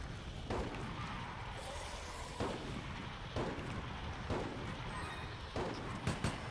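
Grenade explosions amid a zombie fight in Resident Evil: Operation Raccoon City, several heavy booms at irregular intervals over a dense, noisy background of game action.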